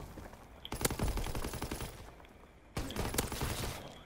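An STG 44 rifle fires in Call of Duty: WWII, in two sustained bursts of rapid automatic fire separated by a short gap, loud and continuous over game background noise.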